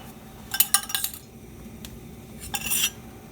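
A metal pan set down on a stove to heat for South Indian sambar, heard as a cluster of close clanks and clinks, a brief tap, then a final scraping clatter, with no voices.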